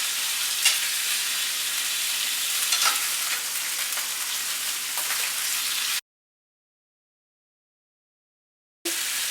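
Loud, steady sizzling of meat browning for pozole in a hot pan for about six seconds, then silence before the frying briefly returns.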